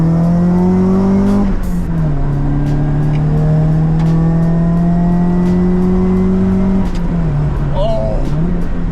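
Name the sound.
Nissan 180SX with SR engine revving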